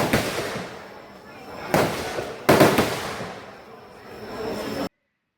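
Two or three heavy booming blasts from old cannons in Ho Chi Minh City, Vietnam, ring out in succession, each followed by a long rumbling echo, loud and somewhat distant.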